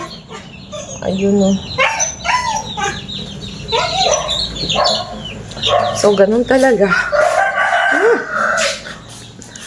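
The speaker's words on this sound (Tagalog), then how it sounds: "May aso, may pusa, tsaka maraming manok. Tingnan nyo naman. Ang daming manok." Many chickens at a home with pets, hens clucking and a rooster crowing close by, loud and repeated, mixed with a person talking.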